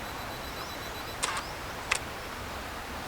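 A Canon 5D Mark II shutter fires outdoors in a misty pine forest at 1/125 second, giving a sharp double click, then a second crisp click a moment later, close and distinct against quiet background hiss.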